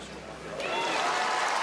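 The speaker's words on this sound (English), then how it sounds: "There are Americans, in Liverpool cheering for their team." American fans cheering for their team at the 2022 gymnastics world championships in Liverpool, a broad crowd roar that swells partway through and stays steady and fairly loud.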